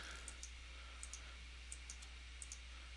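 Computer mouse clicks while selecting weeks in an online grades page, faint sharp clicks in small pairs spaced roughly every half second over a quiet hum.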